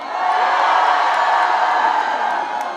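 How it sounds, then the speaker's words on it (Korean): Outdoor festival crowd at a port crab festival concert cheering and shouting in a sustained roar, with sharp whoops and whistles rising above, swelling and holding steady. "우리 행사 구경하러 오신 분들만 함성 한분 들어볼까요?"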